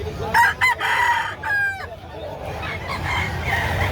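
A Pumpkin Sweater bloodline rooster crows at a busy chicken market, with a couple of short calls followed by a longer crow that rises clearly above the steady crowd murmur and other fowl.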